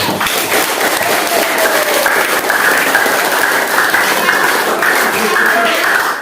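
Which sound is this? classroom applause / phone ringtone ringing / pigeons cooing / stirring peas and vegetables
classroom applause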